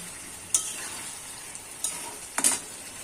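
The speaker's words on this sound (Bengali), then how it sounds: "আলুটা আমি ভালো মতো মশলার সাথে কষিয়ে নেব।" Potatoes frying with spices in a pan for Bengali-style alur dom, a soft continuous sizzle broken by three quick stirring scrapes.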